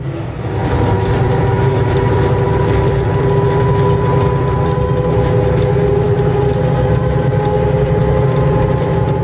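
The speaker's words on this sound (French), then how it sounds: "le train va retrouver la plaine et reprendre de la vitesse" A train picks up speed across open plain after a short tunnel, its engine a loud, steady drone with sustained tonal hum and a dense rumble of wheels, continuous throughout and unaccompanied by speech.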